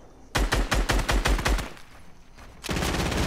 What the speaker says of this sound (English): They're literally auto-firing!